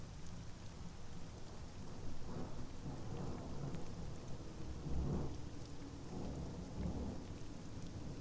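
Steady rain hisses through a damp wood in the game Sunless Skies, a dense continuous patter with low thunder-like rumbles swelling now and then, fairly quiet throughout.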